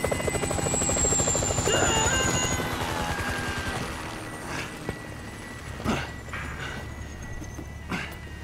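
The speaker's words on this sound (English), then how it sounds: "Can you hear that? Chopper! Incoming!" A helicopter approaches in Grand Theft Auto 5, its loud thumping rotor chop filling the opening seconds, then easing off under sharp bangs and gunfire-like cracks.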